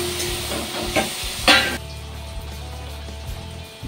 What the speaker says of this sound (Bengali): তরকারির মধ্যে টমেটোটা দিয়ে দিচ্ছি